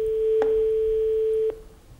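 The ringing tone of an outgoing telephone call: one steady electronic tone held for about a second and a half, then cut off, leaving quiet line hiss.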